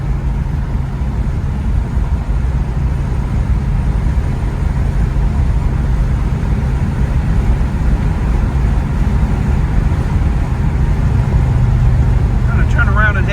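A 1967 Chevrolet Chevelle SS 396 on the move, its steady engine drone and road rumble running continuously and fairly loud throughout.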